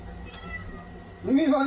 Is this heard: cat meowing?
yes